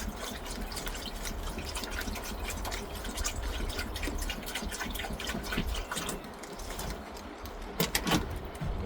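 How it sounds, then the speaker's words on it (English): Water is poured onto a plant tray in a steady, soft trickle and splash that continues throughout, fairly faint, with a few brief knocks near the end. "So I'm literally just going to water my tray."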